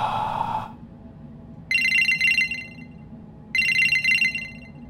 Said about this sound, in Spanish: atiéndame el puto celular